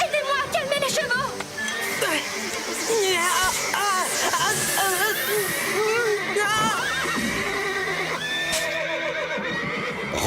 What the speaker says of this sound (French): Marie et Rosa, aidez-moi à calmer les chevaux!